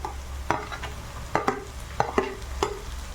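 Vegetables and tomato stir-fried for hakka noodles, with a low sizzle under several distinct spatula clanks against the pan.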